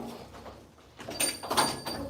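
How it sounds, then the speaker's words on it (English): A door in a salon is opened, giving a faint clunk and a short sliding scrape against quiet room noise. "Open the door."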